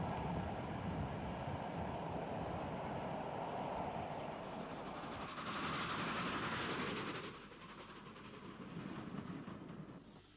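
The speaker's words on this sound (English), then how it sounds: "As this southbound express passes the signal box" A southbound express train rumbles past a signal box on Scotland's Waverley Route, steady rolling clatter and wind noise, loud for several seconds before gradually fading.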